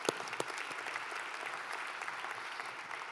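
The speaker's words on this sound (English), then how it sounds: "Another round of applause." Audience applause at the 2025 CHCI swearing-in ceremony and welcome reception, a steady wash of clapping with a few sharper claps standing out at the start, fairly quiet and heard alone.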